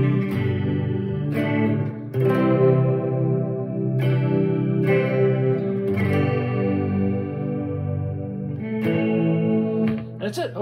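Clean electric guitar chords through an 80s-style pedalboard with chorus into a Dean Markley RM40 amp and Marshall 4x10 cabinet, strummed in several ringing, shimmering phrases with echo tails, loud and close.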